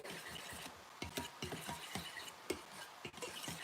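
Almond butter noodle ingredients are mixed together in a bowl, making quiet, irregular scrapes and light clinks of a utensil at a moderate pace against a faint background hum.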